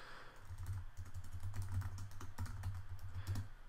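Fast, steady typing of code on a computer keyboard, close and clear, with rapid key clicks and a brief pause, no talk.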